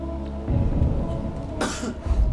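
A low rumble of background murmur, then a single sharp cough bursts out near the end before the murmur resumes.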